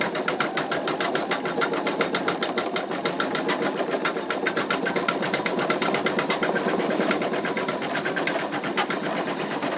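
An embroidery machine stitches out an in-the-hoop wallet with a continuous, rapid, even needle rhythm, close and steady throughout with no voices.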